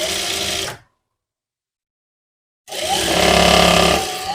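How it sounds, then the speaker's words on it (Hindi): Sewing machine stitching a seam on sharara fabric with lace, a rapid mechanical whirring run that stops for nearly two seconds of silence, then starts again and continues, close and loud. "वही मार्जिन लेते हुए हम यहाँ पे सिलाई लगाएंगे इस तरीके से"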